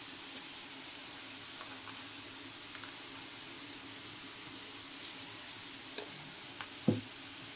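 Dry ground coriander, cumin and paprika stirred in a pan over a steady low sizzle, with a few soft scrapes and light taps near the end.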